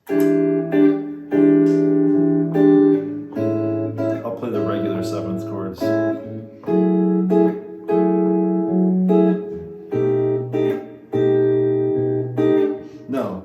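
Guitar chords strummed one after another in a repeating sequence, clear and close, with short pauses between some chords.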